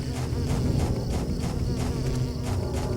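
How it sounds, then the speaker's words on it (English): Dense, continuous buzzing of a swarm of bees in the forest area of the video game Silent Hill 4: The Room, loud and close with no talking. "I think these bees may be some of my least favorite enemies in this game."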